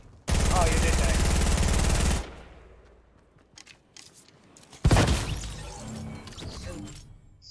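In the Fortnite video game, a loud burst of rapid gunfire rattles for about two seconds and is followed by scattered clicks. Then a second sharp crack of fire breaks out and fades into a noisy tail, with voices talking faintly underneath.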